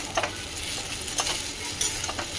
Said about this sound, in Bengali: আর এইটা হচ্ছে যে বেশ ভালো করে নাড়াচাড়া করতে হবে, সাবুটা যতক্ষণ না এই যে কালারটা বদলে যায়।